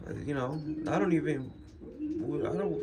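White pigeons coo in soft, rolling throaty bursts, a few repeated calls close by with short pauses between them.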